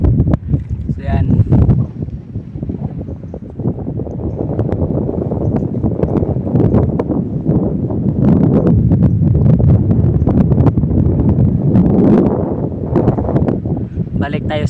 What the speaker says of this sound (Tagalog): Pasensya na kayo sa malakas na hangin po mga idol ha.